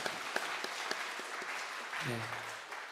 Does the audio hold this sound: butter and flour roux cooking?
no